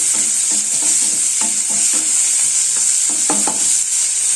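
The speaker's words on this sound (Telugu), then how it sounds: "ఈ ఆనియన్స్ గోల్డెన్ బ్రౌన్ కలర్ రావాలి, అంతవరకు వేయించుకున్నాము." Onions frying in oil with a little salt give a steady bright sizzle, while a spoon stirs them in a loose repeating rhythm of soft scrapes close by, with no talking.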